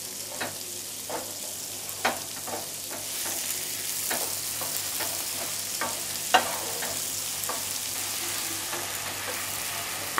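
Vegetables stir-fry in sauces in a hot pan, giving a continuous sizzle broken by repeated scraping and tossing strokes of a spatula, close and clear with no talk.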